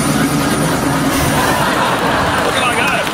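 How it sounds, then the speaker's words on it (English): A helicopter flying over Adelaide's Barossa area gives a loud, steady rotor and engine drone throughout, close overhead, with crowd voices mixed underneath. "That's a helicopter right there."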